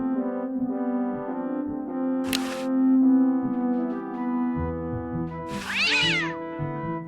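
A cartoon cat in the video game Day of the Tentacle gives two drawn-out meows, the second more strained and wavering, over a sustained tonal music backdrop with no talk.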